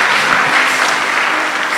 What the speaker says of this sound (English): Let's also clap our hands for the prodigal sons and the daughters of God